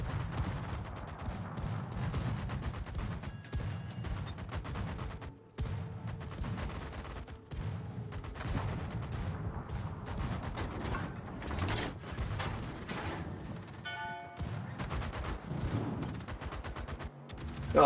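Naval guns firing in the video game World of Warships, with repeated booming salvos and mechanical clanks during a sea battle, spread steadily over the whole stretch at moderate loudness.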